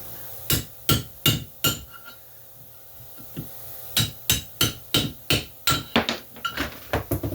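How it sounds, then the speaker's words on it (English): A 4L60E transmission pump is hammered to drive out its seal: two bursts of sharp metallic hammer blows, five or six strikes in each, spaced roughly half a second apart, close and loud with brief pauses between groups. "you can hold it off the edge of something and pound it out the other way"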